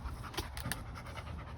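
Rapid, steady panting from a dog, close by and continuous throughout with no talking, recorded around a 1975 Chevy G30 camper.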